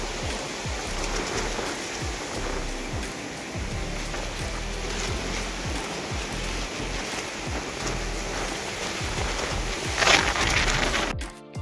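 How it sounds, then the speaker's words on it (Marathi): Heavy rain pours steadily through the Matheran forest, a dense, continuous hiss of drops on leaves and surfaces, loud and close throughout with a brief surge near the end. "खूप पाऊस."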